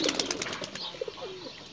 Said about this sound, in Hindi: यह सारे अपने देसी कबूतर है